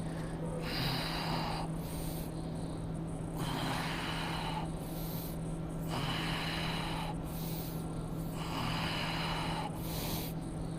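Deep, slow breaths during a yoga pose, each long airy inhale or exhale repeating about every two and a half seconds, close and clear over a low steady hum.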